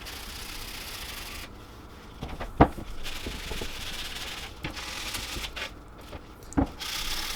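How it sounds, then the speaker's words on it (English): Fine-grit sandpaper rubs along the edges of wooden bench tops indoors, a soft dry scraping in uneven strokes with a couple of sharper knocks, fairly quiet and close. "we just cut a little piece of fine grit sandpaper and cleaned up the edges"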